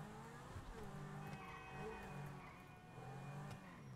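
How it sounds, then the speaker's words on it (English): A car in Grand Theft Auto V doing a burnout, its engine revving in repeated rising and falling sweeps with a steady tonal drone and faint tire noise, moderately quiet and continuous. "Can I do a burnout? Oh, I can do one."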